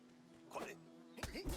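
Bees buzzing in the video game Clunky Hero: two short, faint insect drones, each with a rising and falling pitch, set over a quiet hum with no talk.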